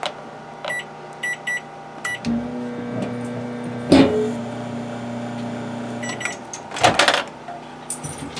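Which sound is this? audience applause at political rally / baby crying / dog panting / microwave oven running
microwave oven running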